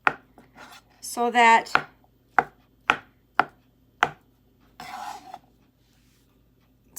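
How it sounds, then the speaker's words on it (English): A kitchen knife chops boiled eggs into large pieces on a cutting board, a series of crisp, close knocks spaced irregularly, with a brief spoken phrase in between. "So I cut them in bigger pieces"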